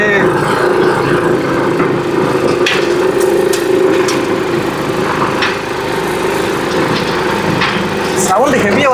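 A small engine powers a homemade mini train built from scrap materials and plywood, running at a steady, buzzing drone close by, with scattered knocks and rattles above it and no speech over the top.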